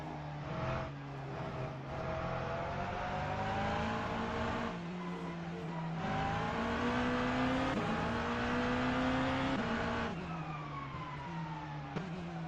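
A McLaren race car engine in the Le Mans Ultimate video game, droning and shifting steadily in pitch as it accelerates and holds speed, alone without talk.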